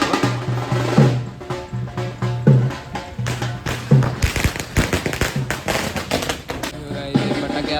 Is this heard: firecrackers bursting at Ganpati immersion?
yes